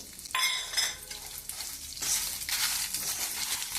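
Dried red chillies and grated coconut dry-roasting in a pan, a close dry crackling rasp with stirring scrapes that swells in intensity partway through.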